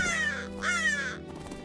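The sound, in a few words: crow cawing, storybook sound effect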